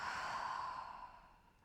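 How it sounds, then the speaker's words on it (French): A single soft exhale through the mouth during a post-workout stretching routine, lying on the back, a gentle breathy whoosh that fades out over about a second and a half, close and quiet. "On expire par la bouche."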